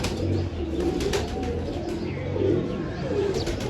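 Pigeons cooing as a pair circles over the tin roofs of a village home, heard continuously against a steady outdoor rush of noise.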